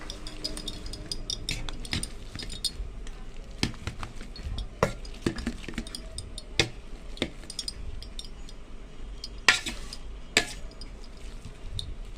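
A spoon stirs a mashed potato and banana mixture in a pan, with scattered clinks and scrapes of metal on metal over a faint steady background, close and fairly quiet.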